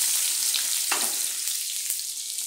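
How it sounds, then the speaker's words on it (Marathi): Ginger and garlic fry in hot oil in a kadai until they turn reddish, a steady close hissing sizzle with a couple of brief crackles. "अद्रक लसूण चांगलं भाजून घ्यायचं, थोडासा लालसर रंग होईपर्यंत"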